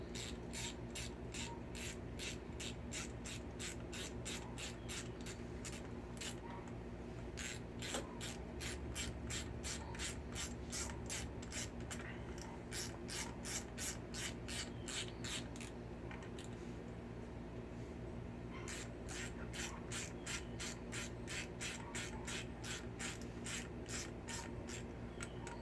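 A small ratchet wrench tightens the clutch cover bolts on a Honda Shadow motorcycle, giving close, rapid runs of crisp clicks in repeated bursts, with brief pauses between strokes.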